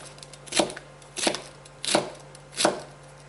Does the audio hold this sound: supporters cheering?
no